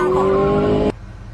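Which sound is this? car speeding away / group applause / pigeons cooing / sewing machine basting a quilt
car speeding away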